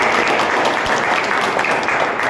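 Loud, steady applause from an audience at an education institute event, dense clapping filling the whole stretch with no pauses.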